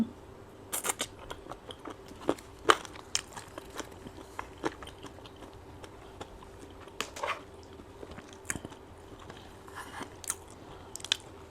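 Close chewing and biting on stir-fried chicken wings with basil eaten by hand, scattered soft crunches and smacking bites against a quiet background.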